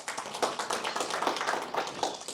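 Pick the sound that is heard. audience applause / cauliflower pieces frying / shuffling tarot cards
audience applause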